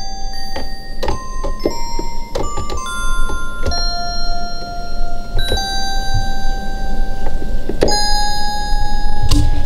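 Bright, ringing bell tones in a trap beat strike repeatedly over a steady pulsing beat, each hit decaying with a sustained shimmer, played loud with no talking.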